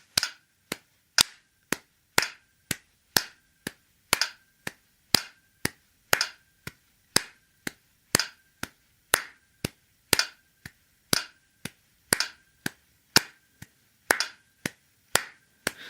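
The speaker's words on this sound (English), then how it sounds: "Now, instead of just thinking the subdivision, clap it." A single person claps steady eighth-note subdivisions in time with a metronome, crisp, close, evenly spaced sharp claps with some slightly uneven spacing, alone with no talk.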